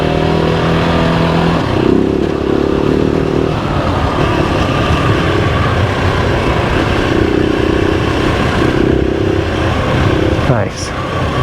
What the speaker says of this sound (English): We come out here with the dirt bikes.